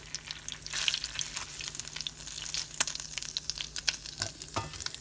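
An egg fries in a pan with a soft, steady crackling sizzle and scattered pops throughout, faint and close, with no talk.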